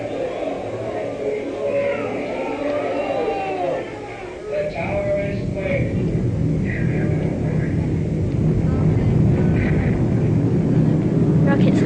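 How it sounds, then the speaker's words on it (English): A rocket engine roars into life at liftoff, a loud, broad rumble that swells after a brief dip and then holds steady and heavy, with a voice talking over it early on. "Rocket starting."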